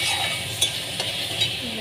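Potatoes fry in hot oil with spices and salt while a spoon stirs them, a steady sizzle under a few light scraping strokes in the pan.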